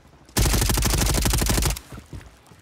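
Automatic gunfire in the video game Warzone: one loud, rapid burst of shots lasting just over a second, then fading echoes.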